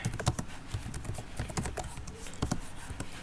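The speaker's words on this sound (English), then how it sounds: "hopefully I get faster at typing" Typing on a computer keyboard while writing a beginner C++ hello world program: quick irregular clicking keystrokes in bursts, close and clear, with no talking.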